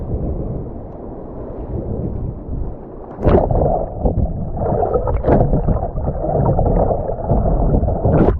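A kayak sits on water, with steady broadband sloshing and lapping throughout and louder close splashes and paddle strokes from about the midpoint on.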